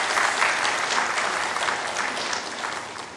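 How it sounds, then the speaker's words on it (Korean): A church congregation applauds after a hymn in a Korean Methodist worship service, a dense, loud burst of clapping that slowly tapers over a few seconds. "박수 한번 다시 보내주시기 바랍니다"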